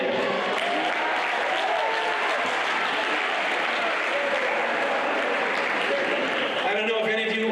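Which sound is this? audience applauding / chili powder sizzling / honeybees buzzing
audience applauding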